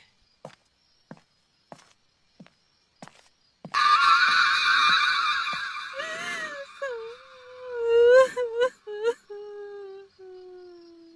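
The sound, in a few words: crying sound effect in horror story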